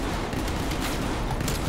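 Streetsweeper shotgun in Call of Duty: Black Ops Cold War firing a dense, continuous volley of blasts, loud and close, with the shots running together for the whole stretch.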